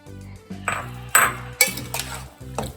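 Ladle or spoon repeatedly scraping and clinking against a metal pot while stirring vinegar into ginger curry (inji curry) for a Kerala Onam sadya, several sharp metallic knocks in an uneven rhythm over a low steady hum, no talk.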